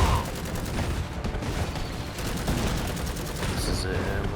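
Gunfire in the strategy game Iron Harvest, a dense battlefield fusillade of overlapping shots and crackles that continues steadily, with faint voices mixed in.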